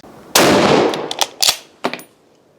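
A 7.62mm Lee-Enfield No.4 L8 rifle fires one loud, sharp shot outdoors with a decaying tail, followed by several quicker metallic knocks and clicks, with no talking.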